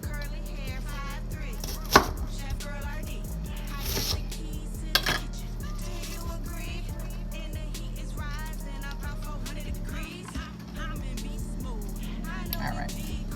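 A knife chops onions into chunky pieces on a cutting board in a home kitchen, with a series of close, crisp taps at an uneven pace over a low background hum.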